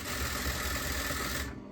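Sewing machine stitching kameez fabric runs in a steady, continuous mechanical whir close by, then stops abruptly near the end.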